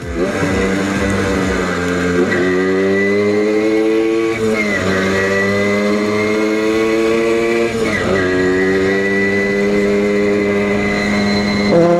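A motorcycle engine runs steadily while riding, with a slipping clutch, loud and close with strong harmonic drone, pitch rising and dipping as the throttle is worked every few seconds, no voices.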